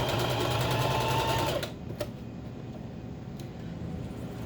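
A sewing machine stitches ribbon onto a skirt at a medium stitch length and width, running in a fast steady whir for about a second and a half before stopping, followed by a couple of faint clicks.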